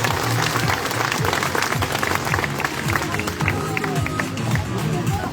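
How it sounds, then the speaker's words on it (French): A crowd at a wildlife park claps for performing California sea lions after their show, the applause steady and moderately loud over crowd murmur and some talk. "Et je pense qu'on peut les applaudir bien fort"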